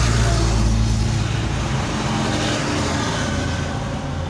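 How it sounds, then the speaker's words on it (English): A Suzuki Swift with automatic transmission revving in park, a loud, close engine roar that is strongest at the start and then eases to a steady lower drone, with no voices. "The RPM will go up without the car moving because the car is on park."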